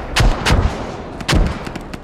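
Mortar rounds fire in the military shooter Squad, three heavy booming shots with gaps between them and fainter distant thuds after, loud and close.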